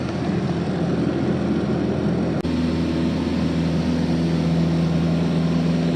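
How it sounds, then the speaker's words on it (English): An airplane engine runs at a steady, loud drone while the aircraft taxis toward the runway, with a brief dip partway through and a strong low hum throughout, no voices. "we're about to start up the plane, so you won't be able to hear me for the rest of the video"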